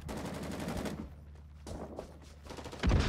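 Rapid gunfire from the video game Rising Storm 2 rattles in bursts, moderately loud over a steady battlefield background, ending with a heavier shot.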